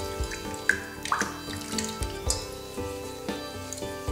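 Felted wool bead rinsed in hot water, giving steady small drips and splashes with a trickling, watery texture, close and moderately loud throughout, with faint background music.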